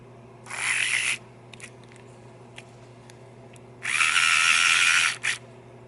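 A Lionel diesel switcher motor from the MPC era whirs on a 9-volt battery test in two short runs, each a steady high electric buzz lasting about a second, with faint clicks between over a low hum.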